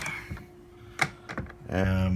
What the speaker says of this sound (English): Both these compartments open up.